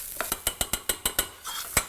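Fresh coconut being toasted and stirred in a pan for a prawn and squid curry, heard as a quick series of sharp, evenly spaced scraping clicks of a utensil against the pan, close and clear.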